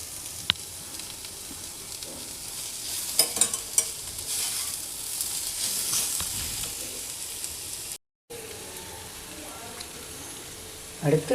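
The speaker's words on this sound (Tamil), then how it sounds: "எடுத்து வச்ச மசாலா பொடி போட்டு நல்லா வதக்கணும்." Masala powder sautéing in a pan for a paneer masala dosa filling, a steady broad sizzle with scraping stir strokes, closely heard and continuous, briefly cut off near the end.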